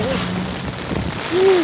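Heavy rain falls in Pampanga as a steady broadband wash, close and continuous, with a voice-like tonal hum appearing briefly near the start and again toward the end.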